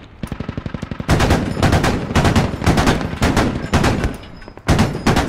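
Machine gun in the military shooter Squad firing in long, rapid bursts, loud and close, a dense rattle broken by brief pauses between volleys.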